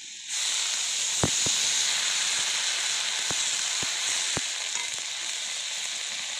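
Water hits frying vegetables in a hot pan, and a sudden loud hiss of sizzle and steam rises and carries on steadily. A few sharp taps of a utensil on the pan come through, with no speech.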